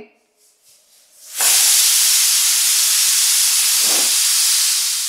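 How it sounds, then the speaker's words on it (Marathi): A pressure cooker cooking jaggery-and-milk broken wheat kheer on medium gas lets out a loud sustained whistle of escaping steam after a brief quiet, hissing steadily and close until the end. "झाकण लावलंय कुकरचं आणि मीडियम गॅस करून मी शिट्ट्या काढून घेते."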